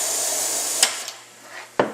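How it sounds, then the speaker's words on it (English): A spray gun fed by a CATalyzer plural-component pump hisses steadily as material sprays out, then cuts off sharply, followed by a few clicks and another abrupt burst near the end. "open it up to the spray gun, spray a little material out"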